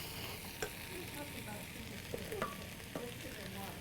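Zucchini cooking in butter in a pan: a quiet, steady sizzle with a few soft clicks and scrapes of a utensil, no voices.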